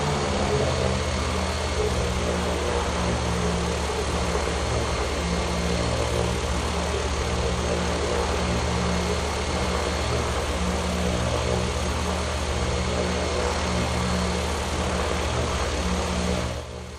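In Flight Simulator IX, a Canadair water bomber's propeller engines drone steadily and loudly in flight without pause, a dense continuous hum with no talking.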